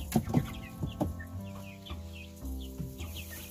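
Chickens in a coop on a countryside farm cluck and squawk in short bursts, close and clear, with a low hum beneath and no talk.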